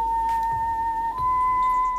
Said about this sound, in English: that sound you just heard is, well, what an eclipse sounds like, at least according to this LightSound device.